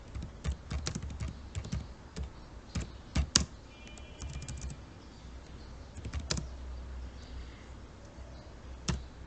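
Fingers tap on a computer keyboard in irregular bursts of sharp, close clicks, with short pauses between runs of keystrokes.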